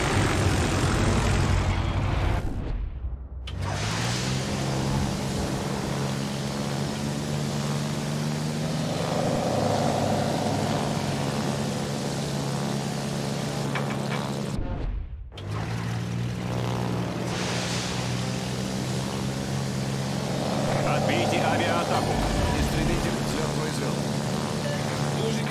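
A fighter aircraft takes off in the World of Warships naval game, a loud, steady engine drone that runs continuously with two brief dropouts, while voices talk over it.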